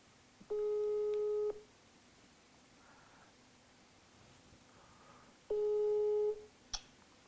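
Two long steady telephone ringback tones sound while a call is placed, each a clear buzzing hum lasting about a second, separated by a few seconds of quiet line hiss, with a small click near the end.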